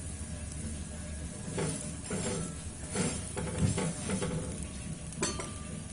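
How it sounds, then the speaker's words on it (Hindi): Lauki lachha paratha roasting on a pan with oil, a soft continuous sizzle with bursts of pressing and scraping and an occasional clink, fairly quiet and close. "और इसे अच्छे से ऐसे इस तरह से दबाते हुए हम दोनों तरफ से करारे हो जाने तक सेक लेते हैं"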